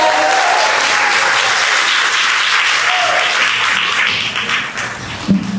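Audience applause for the panelists at a live panel event, loud sustained clapping from a full crowd that eases off near the end, a few voices and a cheer rising briefly.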